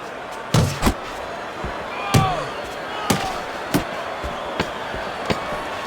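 Punches land in a Holyfield versus Frazier boxing fight, sharp thuds and slaps scattered irregularly over crowd murmur, several sounding close and distinct.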